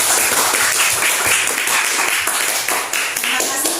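Audience applause following a group presentation in a classroom or discussion session, dense continuous clapping that stays loud and steady from start to finish.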